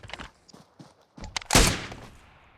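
Gunfire in the battle royale video game PUBG: a few soft thuds and clicks, then one loud, close blast that rings out and fades over about a second.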